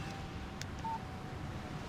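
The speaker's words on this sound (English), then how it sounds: "Text message from Barry." A short electronic alert tone sounds once on a phone in the video game Alan Wake, a brief beep over steady low background hum, with no talking.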